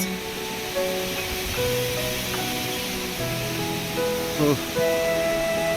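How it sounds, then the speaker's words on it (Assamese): Mountain river rapids rush and roar in a steady, loud broadband wash, with faint tonal sounds drifting over the constant flow. "নদীৰ প্ৰচণ্ড ঢৌৱে মানে পুৰা খলকনি জগাই আছে ইয়াত।"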